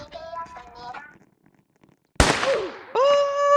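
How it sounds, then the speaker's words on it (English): Gunfire in the Roblox Squid Game Red Light Green Light round: a single loud, sharp shot bursts in after near silence, trailed by a descending whine, then a sustained tonal game sound, with faint voices before. "Oh, I hear gunshots."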